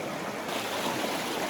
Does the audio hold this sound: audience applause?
no